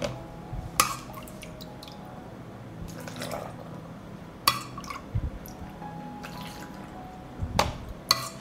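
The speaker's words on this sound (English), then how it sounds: "I will pour the dressing into the jars to cover the tomatoes." Pickling brine of sugar and 9% vinegar is poured into glass jars packed with tomatoes, with quiet liquid trickles and drips broken by a few sharp clinks and splashes, close and without speech.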